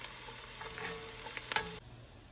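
Cowboy baked beans cooking down in a pan, a steady close sizzle with a few light stirring scrapes before it stops abruptly.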